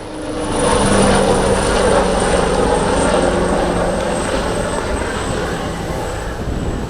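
Italian Air Force HH-139B rescue helicopters from 15 Wing at the Malta International Airshow, a loud sustained engine and rotor roar holding steady overhead and easing slightly as they pass.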